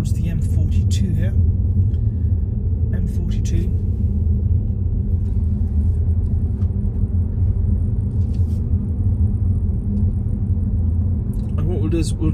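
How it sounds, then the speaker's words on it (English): A car driving along a road towards the M42 in the Lickey Hills and Barnt Green area, a steady low engine and tyre rumble heard from inside, continuous and fairly loud, with faint clicks on top. "So we're driving towards the M42 here."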